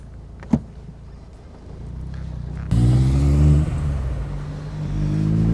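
A 2018 Morgan 4/4 with a Sigma engine starts and drives: a quiet idle and a click give way to a sudden louder engine note that rises and holds steady, close and prominent.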